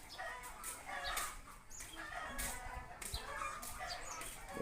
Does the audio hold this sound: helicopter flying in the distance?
no